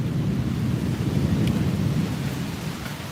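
Heavy rain pours during a tropical thunderstorm while deep rolling thunder rumbles low and continuous beneath it, loud and close, with no voices.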